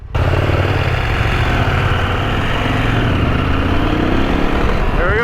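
A muddy KTM 890 Adventure R motorcycle on a Utah backcountry route revs loudly and steadily close by, its engine roaring continuously with wind noise over it.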